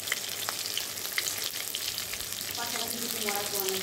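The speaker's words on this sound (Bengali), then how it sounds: "বেগুনের মধ্যে একটু নুন আর একটু হলুদ দিয়ে ভালো করে কড়া করে ভেজে নেব" Eggplant slices seasoned with salt and turmeric fry in hot oil, a continuous crackling sizzle close up with occasional stirring clinks and a faint voice in the background.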